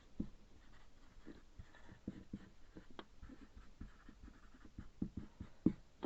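A pen or marker writing out a couple of words on paper or a board, with quick tapping and scratching strokes at close range and soft background noise, no talking.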